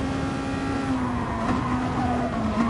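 A race car in a racing video game brakes hard, its engine whine dropping in pitch over a sustained tire squeal and road noise, loud and close throughout, with no voices.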